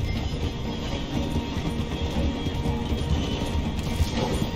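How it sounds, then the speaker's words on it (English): A train in Red Dead Redemption 2 rumbles and rattles as it slows near a station, a loud continuous rolling clatter with faint metallic squeals and no talk over it. "The train is slowing down to go through the station."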